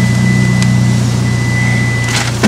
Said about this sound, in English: Buschur exhaust. It's not too loud. It's not annoying.